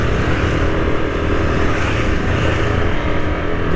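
A Yamaha Aerox 155 scooter rides uphill, its engine giving a loud, continuous buzzing drone with wind noise, held close and steady throughout.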